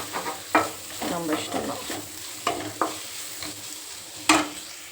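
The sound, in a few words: sautéing kuzhambu chili powder and coriander powder in pan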